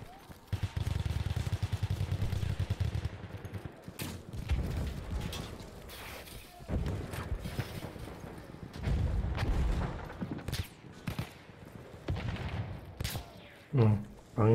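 Battlefield 1 combat with sniper and gunfire: sustained rattling automatic fire, scattered sharp shots and deep booms in bursts and pauses, with a voice talking briefly near the end.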